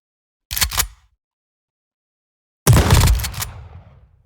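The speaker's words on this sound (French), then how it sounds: "vu que c'est un pompe chasseur, il va faire plusieurs balles" Pump shotgun firing in the video game Roblox: two loud, sharp blasts about two seconds apart, the second fuller with a longer rumbling tail, with no talking.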